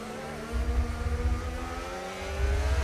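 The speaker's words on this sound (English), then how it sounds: "Hearing the Mercedes engine." A Mercedes racing car engine in a racing video game at Imola roars and revs at high pitch, its whine climbing steadily as it accelerates, loud and continuous.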